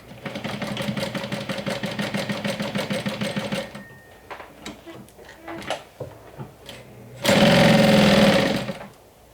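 A sewing machine stitches one side of the outer fabric of a wine bottle bag in a fast steady run of needle strokes, pauses with a few soft clicks, then starts again in a short loud burst.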